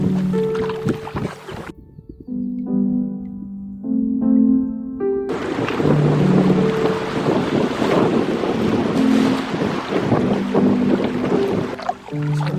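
A canoe paddles down the Mississagi River with constant rushing wind and water noise, and some tonal sounds in the opening seconds before the wind takes over.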